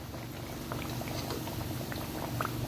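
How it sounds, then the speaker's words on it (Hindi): Sweet tikki frying in hot oil until brown gives a steady close bubbling sizzle with scattered small pops and crackles throughout, moderately quiet, with no voices. "इसी तरह हम ब्राउन होने तक फ्राई कर लेंगे"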